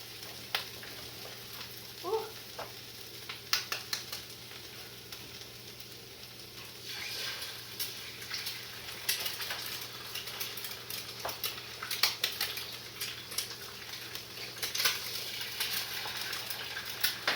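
Eggs fry in a pan on a stove turned down low, giving a steady soft sizzle with scattered crackles and pops, close by and moderately quiet, with no talking.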